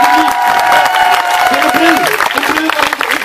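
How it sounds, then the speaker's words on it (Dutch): A crowd at a comedic knight-themed show claps and cheers in a lively burst, with a voice speaking loudly over the applause and tonal sounds mixed in, close and energetic throughout. "Een daverend applaus."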